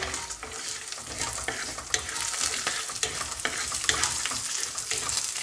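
Green chillies and cashews fry in hot oil, giving a steady close sizzle with scraping stirring sounds and no talk.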